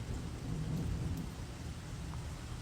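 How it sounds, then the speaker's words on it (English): Low thunder rumbles steadily through a thunderstorm, blending with the soft hiss of falling rain; distant and fairly faint, with no voices. "I don't know if you could hear the thunder from this"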